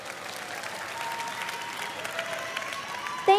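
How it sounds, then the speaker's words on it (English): Audience applause at a school speaking session, moderately soft and steady clapping that carries on for a few seconds, with a brief louder bump right at the end. "Thank you for the warm applause."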